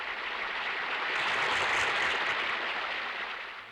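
Applause from a theatre audience as a seven-year-old guitarist walks onstage, a dense even crowd clapping that swells slightly in the middle and holds steady throughout, with no voices over it.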